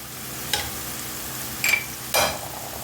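Green peppers and tomato paste stirred in a pan for a meyhane-style rice pilaf: three separate scrapes of the spoon over a low, continuous frying sizzle, with no voices.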